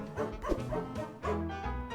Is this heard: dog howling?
yes